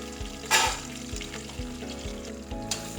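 Onion and green chili sizzle in hot oil for prawn biryani, a steady close frying crackle with periodic soft stirring knocks and scrapes in the pan, no talking.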